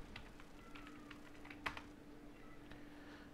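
Keys on a computer keyboard tapped in short, quiet bursts against a steady low hum, a few strokes spaced irregularly with one louder clack near the middle.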